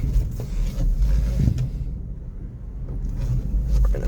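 2009 Honda CR-V with engine trouble backing down a driveway, a low, uneven engine rumble heard up close with bumps and handling noise, quieter in the middle and rising again toward the end.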